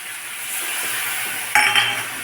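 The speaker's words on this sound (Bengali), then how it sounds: "একটু মশলাটা আমি ভালো করে কষিয়ে নেব" A spice paste sautés in a pan for a soyabean curry, giving a soft continuous sizzle, then a couple of sharp metal scrapes and clinks from stirring near the end.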